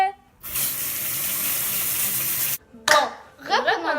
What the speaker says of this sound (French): Il faut bien se laver les mains.